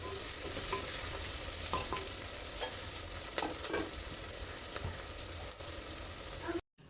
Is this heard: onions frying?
yes